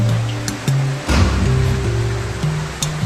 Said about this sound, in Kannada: ಇದೆ ಅನ್ಸತ್ತೆ ಫಾಲ್ಸ್.